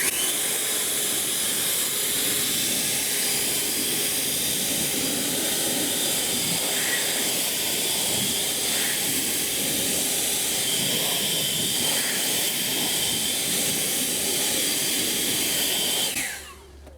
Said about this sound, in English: let me grab the Ego blower